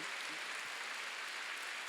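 A church congregation claps hard on cue during a Sunday worship service. The brief, even wash of clapping comes from many hands at once and is moderately faint.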